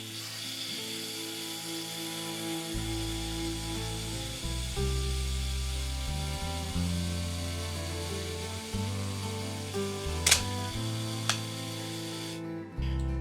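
A Canon FTb QL film SLR's self-timer whirs through a stepped mechanical buzz that shifts in pitch for several seconds, then the shutter releases with a sharp click followed by a second fainter click, close and alone.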